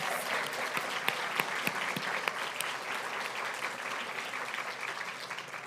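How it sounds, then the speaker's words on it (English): A ceremony audience claps for several seconds in a full, sustained round of applause, with some sharper individual claps standing out near the start, loud and close, with no speech. "They deserve a round of applause."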